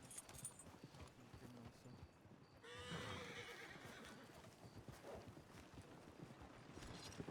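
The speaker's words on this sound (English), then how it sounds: "Horses over here." Horses in the Western roleplay game Red Dead, with a loud nearby whinny rising out of steady clip-clopping hooves and creaking tack, heard faintly in a low-level mix.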